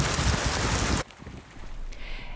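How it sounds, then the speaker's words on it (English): Heavy rain with breezy conditions at a town center in El Dorado Hills, Northern California, amid flooding; a loud dense downpour roar first, then a quieter steady patter of rainfall with no voices. "heavy rain and breezy conditions in El Dorado Hills today"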